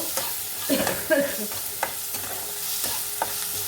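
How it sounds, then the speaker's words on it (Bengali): Onions sizzle in a hot pan while a utensil scrapes and stirs them in several short strokes, close up with no talking. "এবার পেঁয়াজটা ভালো করে ভেজে নেব"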